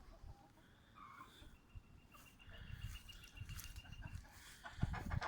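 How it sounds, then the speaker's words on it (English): Chickens and roosters clucking outdoors beside a golf course under a white sky, a faint, distant, scattered chorus of clucks and calls that grows busier toward the end. "Crazy chickens."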